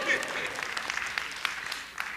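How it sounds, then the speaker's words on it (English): Church congregation applauding at a pastor's sermon, a steady patter of clapping with a few sharper claps, moderately near and fairly quiet, lasting about two seconds. "Let's give him a round of applause."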